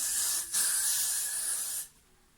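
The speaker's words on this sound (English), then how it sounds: "So you can use that if you don't have a holding spray." Hair holding spray hisses from an aerosol can in two close bursts, the first short and the second long and steady, during a glueless frontal wig styling session.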